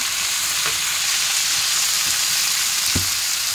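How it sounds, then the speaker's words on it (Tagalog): Cabbage and carrots stir-frying in a pan for sotanghon noodles, a steady loud sizzle throughout with a few soft clinks and scrapes of stirring. "igisa lang natin, i-mix"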